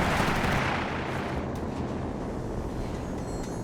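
Artillery and heavy gunfire roar continuously in a Company of Heroes 3 battle, German heavy fire pounding a US machine-gun crew, a dense rumbling barrage with no break.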